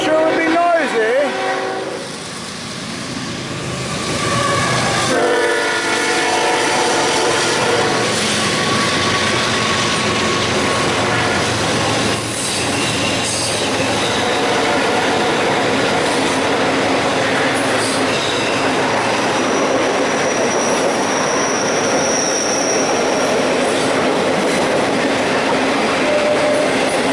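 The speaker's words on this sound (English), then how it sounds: "Now, of course, there would be trains coming by." A train rumbles past on railroad tracks close by, loud and continuous, with wheel squeal, clattering cars and a horn blast over the roar.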